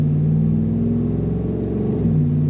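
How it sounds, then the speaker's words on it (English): A truck fitted with an MBRP aftermarket exhaust driving along, a steady deep droning exhaust rumble that holds its pitch and then shifts lower as the engine load changes, close and alone. "Yes, there's going to be exhaust noise."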